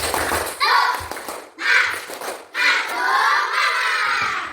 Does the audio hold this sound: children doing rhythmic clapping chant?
yes